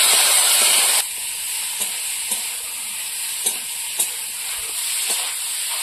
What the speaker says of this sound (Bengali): লঙ্কা বাটা দিয়েছি, আর একটু কষিয়ে নেবো।